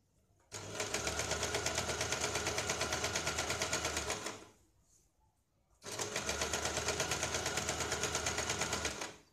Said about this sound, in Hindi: यहाँ पे हमें किनारे पे सिलाई लगानी है।